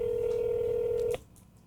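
A phone call rings out on the line as a steady electronic tone that holds for about a second and then stops abruptly, leaving faint background hiss; the call goes to a real estate agent who is too busy to answer.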